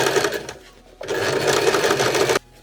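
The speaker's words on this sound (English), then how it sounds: "Starting from the bottom, press and sew along the edge, crossing over at the waist to the other side." Close and loud, a sewing machine stitches along the side slit edge of an áo dài, with a short burst, a brief pause, then a longer steady run that stops abruptly.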